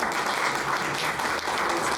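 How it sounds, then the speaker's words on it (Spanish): Sustained applause from a seminar audience welcoming a speaker to a food policy seminar at UACM, dense, steady clapping that fills the room throughout with no talk over it. "Entonces le damos un fuerte aplauso."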